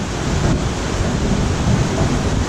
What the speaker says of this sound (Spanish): vemos una de las ruedas en constante movimiento, aprovechando la fuerza y energía del agua